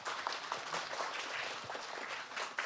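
An audience at a monthly forum featuring the 416 Choir gives soft, steady applause, a continuous wash of clapping heard at a distance and fairly quiet.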